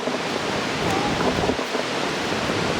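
Nandroya Falls in the Atherton Tablelands near Cairns roars as a steady, loud, broadband rush of falling water that fills the whole clip, with no break in the sound.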